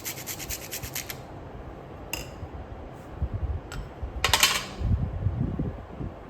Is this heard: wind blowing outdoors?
no